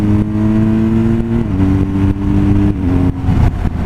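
A 2017 BMW R1200 GSA motorcycle engine revs and climbs through the gears, pitch rising then dropping at each shift, loud and close with a smooth, steady drone.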